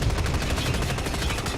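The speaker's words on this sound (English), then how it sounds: "Rather fine use of a forge gun in Arena 1, trying to take out one of the tanks there." Rapid automatic gunfire from a forge gun aimed at tanks in the shooter game DUST 514, a steady, dense stream of loud repeated shots with no pauses across the whole moment.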